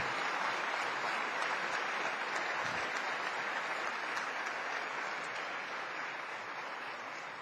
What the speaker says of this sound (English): I think we should give a big applause to all of these people